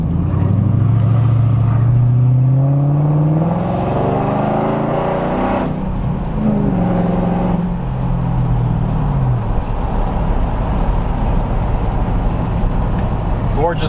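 A Mercedes-AMG Benz cruises along a road with a loud, steady engine drone and shifting revs close by, under a voice talking for much of the time.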